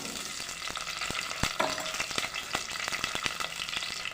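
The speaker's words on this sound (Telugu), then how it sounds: "ఇందులోకి పోపు వేసుకుందాము" Fenugreek seeds, cumin and chopped onions sizzle in hot oil for a tempering, a steady broadband crackle with scattered sharp pops and spoon clicks against the pan throughout.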